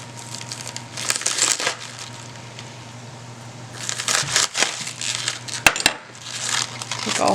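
A knife cuts the core out of half a cabbage on a board for Southern fried cabbage, giving crunchy crackling cuts in bursts, with two sharp knife taps near 5.7 s and a low background hum throughout.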